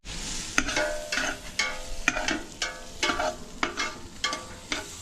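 Goat meat sautéing in a pan, bursts of sizzling as the chunks are stirred and tossed, with sharp clacks of a utensil recurring roughly every half second, close and clear.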